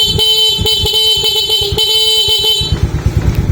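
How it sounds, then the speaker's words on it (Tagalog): A loud horn on a Suzuki Smash motorcycle blares continuously for a few seconds close by, headlight on high beam, then cuts off, leaving an idling engine rumbling. "busina tayo mga sir"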